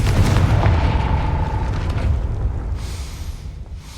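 A Confringo blasting spell in Hogwarts Legacy sets off a loud, deep explosion with a heavy booming body and a rumbling tail that fades over a few seconds, with no voices.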